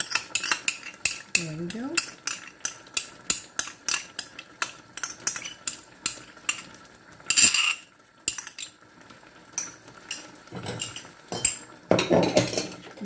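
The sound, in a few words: mixing plain yogurt into chicken biryani in a pot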